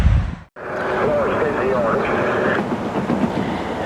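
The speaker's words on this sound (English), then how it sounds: "Roll that beautiful train footage." SD40T-2 locomotive train passing, a steady rumbling roll with a squealing tone that follows a brief dropout in the sound, heard up close and fairly loud.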